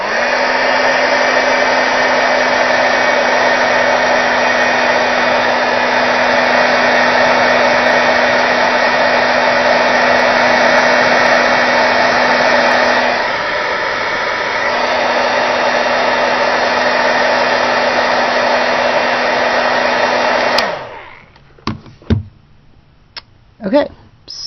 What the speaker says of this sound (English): this is just your regular heat gun. I've had this forever.